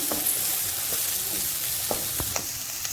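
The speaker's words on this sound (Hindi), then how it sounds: "अब हम इसके अंदर जो हमारे पास शिमला मिर्च वो डाल रहे हैं, इसको भी 1 मिनट के लिए अच्छे से फ्राई कर लेंगे।" Vegetables and capsicum frying in a pan on high flame, a constant close sizzle broken by sharp spatula taps and stirring scrapes.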